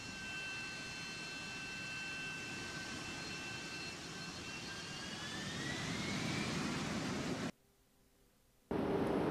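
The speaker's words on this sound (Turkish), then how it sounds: "Şimdi uçakla gidiyoruz." Airplane engine in the Minecraft video game, a steady droning roar with rising whine tones that swells louder before cutting to near silence, then returning.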